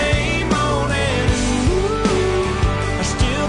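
A country song playing on a radio countdown show, full band with sustained sung vocal melody and steady bass, continuous and fairly loud.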